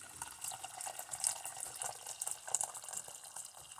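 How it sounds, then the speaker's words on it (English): Hot boiled water pouring steadily into a cup for chai tea, a soft, continuous trickling splash close by with no voices. "So now what I'm going to do is go ahead and add this boiled water."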